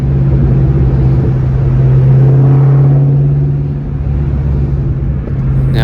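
Ford Mustang Terminator Cobra engine driving along, a steady loud low rumble with a constant drone and mild swells in revs throughout, no speech over it.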